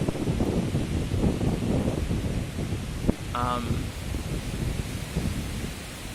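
A storm sweeps through, with steady wind buffeting the microphone and rain hissing throughout, broken by one brief sharp crack midway.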